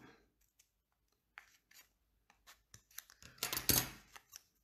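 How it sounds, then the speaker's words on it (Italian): Scissors snip through folded paper while an origami witch's hat for Halloween is trimmed; a few faint, scattered snips lead into a brief, louder cluster of close cutting sounds. "con le forbici poi la sistemiamo e la aggiustiamo"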